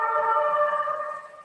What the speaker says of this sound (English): There's an ambulance outside.